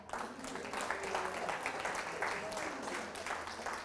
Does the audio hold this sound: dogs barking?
no